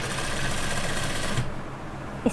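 A sewing machine runs a steady whirring stitch while sewing lace onto the round hem of a dress, close and continuous, then drops quieter partway through.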